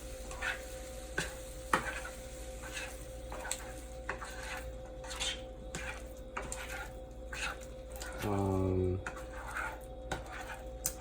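A spoon stirs a sticky Caribbean stir fry with fruit in a pan, giving repeated scraping strokes over a soft sizzle, with a short louder clatter near the end; close and moderately loud, no talking.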